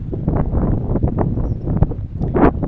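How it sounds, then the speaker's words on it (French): Light wind blowing outdoors in Sainte-Anne, Guadeloupe after Hurricane Maria, a steady low rumbling gust noise on the microphone with faint rustling throughout. "Parce qu'il y a un petit vent"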